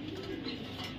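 Tiger Beauty racer pigeons coo close by in a brief, soft, throaty burst of low cooing.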